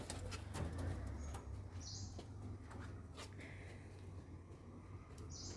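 Red Sirazi pigeon let loose outdoors near a home loft, with a low steady hum beneath scattered chirps, soft coos and brief bursts of wing flapping.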